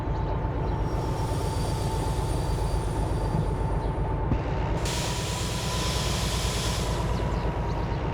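Steady rumble and rail noise of a train reversing in the Derail Valley simulator game, a continuous dense low drone with a faint high whine, moderately loud and unbroken throughout, no talking.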